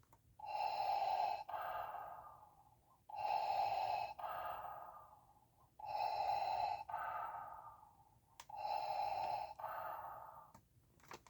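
A Star Wars Episode 3 popcorn bucket plays mechanical breathing, four slow, even inhale-exhale cycles, each a loud hissing rush that fades before the next, heard alone.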